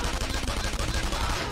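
Dense, loud bursts of gunfire in the video game Persona 5 Royal rattle nonstop, shots overlapping into a continuous barrage.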